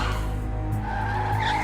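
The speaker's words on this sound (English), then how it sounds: "Finally, he lost control and started spinning down the road." A car in a video game skids out of control and spins down the road, with a continuous loud tire squeal over a droning engine, heard alone without talk.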